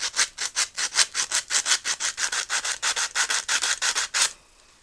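A Harbor Freight spark plug cleaner raked back and forth under a spark plug's electrode gap, about twenty quick, evenly spaced scraping strokes, close and crisp, before stopping abruptly.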